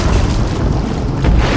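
A gas cylinder shot in the video game Resident Evil 2 bursts in a loud, low booming explosion that rumbles on without a break.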